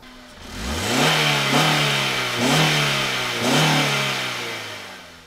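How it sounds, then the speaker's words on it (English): A car engine is revved hard several times in a row, each blip climbing in pitch and then falling back to a loud, steady drone. It sounds close by, with no talking over it. "Rev the engine."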